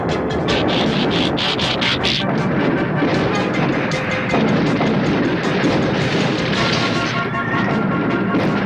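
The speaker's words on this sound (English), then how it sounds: "Look, it's Astro Train" Astrotrain, the triple-changer Transformer, arriving as a train in the Transformers cartoon: a dense, continuous rumble with rhythmic clatter and booming bursts, loud and close throughout.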